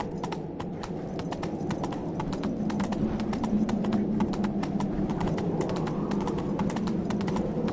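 Horse hooves clip-clop in a steady galloping rhythm, close and continuous, from The Witcher 3: Wild Hunt with a low background hum and no talk over it.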